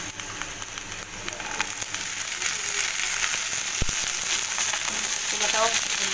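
Soaked chickpeas fry in hot oil in a pan, giving a steady close sizzle that swells slightly after the first second, with a sharp metallic tap partway through and no talking.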